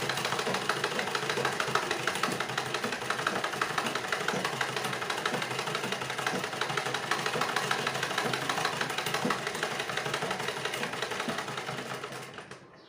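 A sewing machine stitching steadily along a marked line, a fast continuous mechanical whir and clatter held close and loud for most of the stretch before slowing and stopping at the end.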